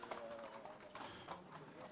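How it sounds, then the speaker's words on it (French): Horses walk at a racecourse, their hooves clip-clopping in a loose, uneven rhythm at a moderate distance, with faint murmuring in the background. "il y a beaucoup de chevaux ici"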